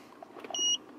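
Short electronic key beeps from a Foxwell NT301 automotive OBD2 code scanner, a steady high-pitched tone lasting about a quarter second, close and clear over faint handling noise.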